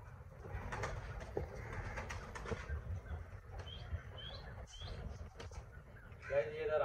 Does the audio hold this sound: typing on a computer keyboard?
no